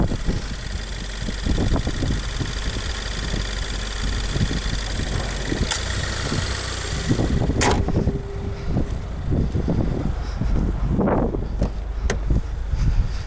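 A 2020 Subaru WRX with a 2.0-liter turbocharged flat-four and six-speed manual, heard from inside the cabin as a steady, rumbling engine drone with gentle rises and dips in revs, loud and close, with no talk.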